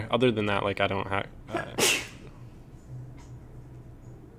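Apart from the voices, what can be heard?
sneeze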